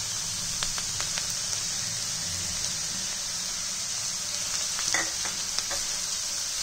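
Onion browned in a pan with tomato just added, frying on the stove for a restaurant-style palak paneer: a steady close sizzle with a few scraping stirs and light pops, no talking.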